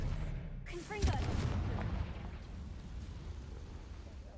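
A Confringo fire spell bursts in Hogwarts Legacy with a sudden sharp blast about a second in, followed by a rumbling decay that fades over the next few seconds, with a voice talking alongside.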